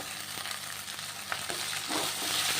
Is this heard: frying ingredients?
yes